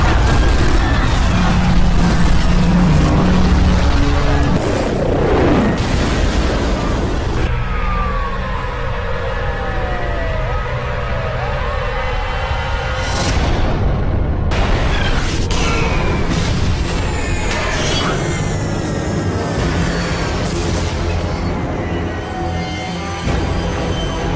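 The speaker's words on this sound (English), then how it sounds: "There has been an explosion." A dramatic explosion boom opens a news broadcast intro, with loud, dense rumbling layered under swelling music and sweeping effects that fill the full stretch.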